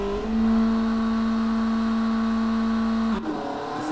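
A car engine at full throttle in the car-design game Automation, a loud steady high drone held for about three seconds before the pitch drops sharply as the car lifts off.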